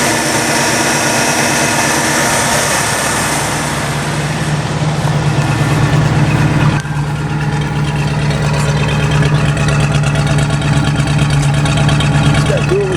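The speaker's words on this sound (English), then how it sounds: "Smooth running engine." A 1973 IHC International Scout II 4x4 with a 345 engine and dual exhaust, idling smoothly with a steady low hum and mild rumble throughout, running close by with occasional background noise.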